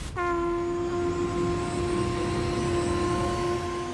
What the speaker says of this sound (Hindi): इस पर शंख कौन बजा रहा है?